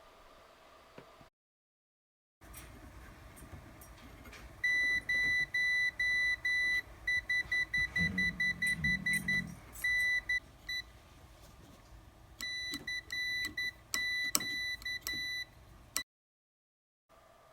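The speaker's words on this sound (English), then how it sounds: "Please excuse my awkward demonstration of an electronic keyer." Electronic Morse keyer sending bursts of sharp, even beeps in quick rhythmic runs, loud and close over a faint background hiss, with a pause in the middle and a second run of tones near the end.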